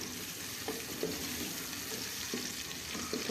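Chopped onions frying in a pan with a steady, soft sizzle and occasional light stirring clicks, close and alone with no talk.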